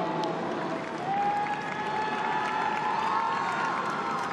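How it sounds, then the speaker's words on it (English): A stadium crowd at the All Ireland Club Final applauds the referee and officials, with sustained clapping and scattered cheering and shouts spread through a large space. "please give Brendan Cawley, our referee, and his officials a round of applause for their contribution to today's game"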